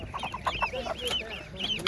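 Ducklings peep in quick, high chirps at a market, a small flock calling over and over close by.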